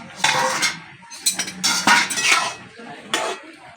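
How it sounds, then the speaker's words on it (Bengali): A lid is lifted off a pot of ash gourd leaves (chal kumro shak) simmering on a stove, giving several close metallic clinks and scrapes of metal cookware in irregular bursts with no talking. "এবার আমি ঢাকনাটা তুলে দেখব শাকটা সিদ্ধ হয়েছে কিনা।"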